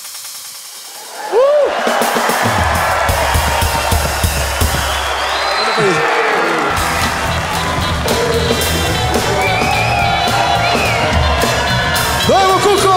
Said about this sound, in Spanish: A la cuenta de tres todos gritan un huevo